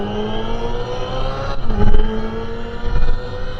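A Hyundai Ioniq 5N electric car launches hard, its synthetic engine note climbing in steps with two surges at simulated gear shifts, loud and close against a steady whine.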